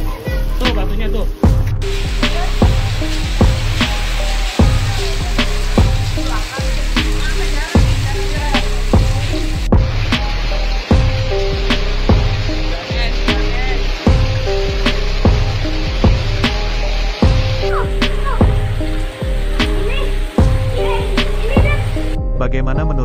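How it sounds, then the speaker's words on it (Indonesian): Hail pelting down in Depok, West Java, during a windstorm, a dense steady roar of ice striking surfaces with frequent sharp close impacts throughout, with voices faintly present. "video rekaman warga saat terjadinya hujan es di Kabupaten Depok"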